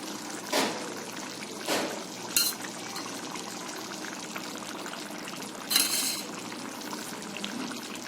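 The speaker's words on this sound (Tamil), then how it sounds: "இப்ப இந்த ஸ்டேஜ்ல கடைசியா கொஞ்சமா நெய் சேர்த்துடலாங்க" A little ghee is poured over mushroom biryani in a pressure cooker, giving a few soft, brief splashes and trickles spaced apart over a quiet kitchen background.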